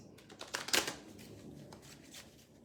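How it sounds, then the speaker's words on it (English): A deck of medicine cards is shuffled by hand, giving a quiet riffling flutter that peaks in a brief close burst and then trails into soft handling rustles. "I am very excited to be able to shuffle these medicine cards"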